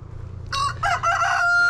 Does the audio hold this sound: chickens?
yes